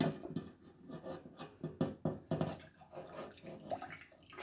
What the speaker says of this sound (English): I'm simply just going to pour the panna cotta mix into the tiny little tubs like that.